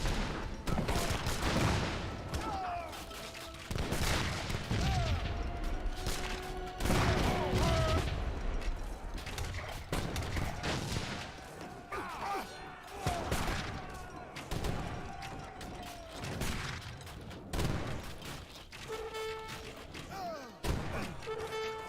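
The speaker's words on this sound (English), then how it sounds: "Obuscons take some massive fire there from the Grenadiers" Grenadiers firing in Age of Empires 3, a real-time strategy battle, with dense overlapping volleys of gunfire and thumps running throughout, loud and continuous, alongside other battle effects and occasional tonal game sounds.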